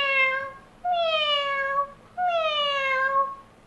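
A cartoon cat in a children's animated show gives three drawn-out, melodic meows one after another, each rising then falling, loud and close with no other voices.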